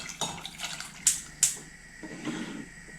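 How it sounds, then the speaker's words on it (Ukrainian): A glass of water poured over cubed pumpkin in a saucepan gives a close, trickling splash with a few sharp knocks and drips, quiet and without speech. "Заливаю одною склянкою води."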